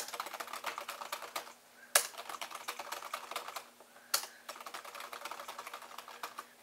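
Rapid bursts of typing on a computer keyboard, close and clear, broken by two brief pauses each ended by a sharp single key strike.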